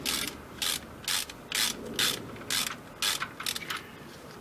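A ratchet wrench clicks as it screws in a bolt, with about nine distinct ratcheting bursts in a steady back-and-forth rhythm, close and clear with no talk.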